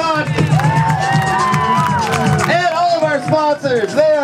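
An audience at the fourth annual 10 Second Film Festival at the Soap Factory cheers and claps. Whoops and shouted voices ring out loud and close over the steady crowd noise.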